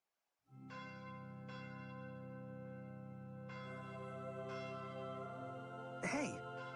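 A bell in the video game Fire Emblem Shadows of Valentia clangs loud and sustained, its ringing tone restruck at intervals and hanging throughout, with a brief voice cutting in near the end.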